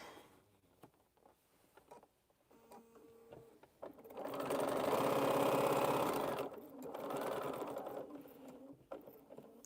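Sewing machine stitching quilt pieces together, a steady mechanical whirr for a couple of seconds, then a short pause and another burst, with quiet handling clicks before and after.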